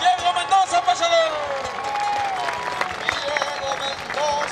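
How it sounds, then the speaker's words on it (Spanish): Spectators at a rodeo applaud a rider as an announcer talks loudly over them, clapping mixed with crowd noise and shouting under the voice throughout. "¡Que el fuerte aplauso para Diego Mendoza, pasador!"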